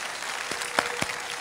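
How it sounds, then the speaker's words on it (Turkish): A brief burst of audience applause for comedian Sefa Doğanay on a Turkish comedy stage show, a dense wash of clapping with a few sharper claps standing out. "Hadi alkışlar Sefa için."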